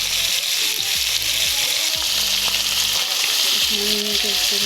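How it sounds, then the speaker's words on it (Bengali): Loud, constant sizzling of fish frying in oil, a dense crackling hiss with faint background music and no voices. "মাছগুলো ভাজা হয়ে গেছে"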